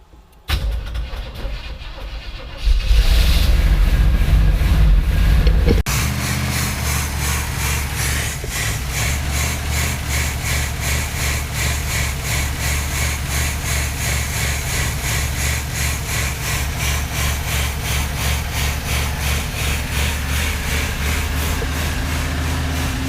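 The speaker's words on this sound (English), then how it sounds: "it's running and idling from the gas in the tank" A 1979 Camaro engine starts up and then settles into a steady, loud idle with a rhythmic low rumble, running on without any talk.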